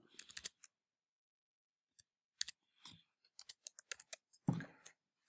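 A number being typed on a computer keyboard, heard as a few quick clusters of close, crisp key clicks separated by silent gaps.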